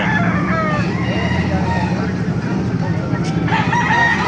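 Sweater gamefowl roosters crow at a busy chicken market, loud overlapping calls over clucking, crowd chatter and passing traffic, with a fresh crow rising near the end.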